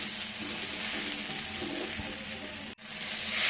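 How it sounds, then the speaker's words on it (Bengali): Spices fry in a pan just after a splash of water for a Bengali onion-flower stalk (peyaj koli) dish, giving a steady, close hiss of sizzling that cuts out for an instant near the end. "তারপর আবারও একটুখানি জল দিই, ভেজে নেবো হয়ে গেলে"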